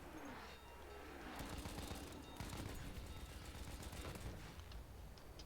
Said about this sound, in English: I don't know who's shooting me, but I don't want to be shot.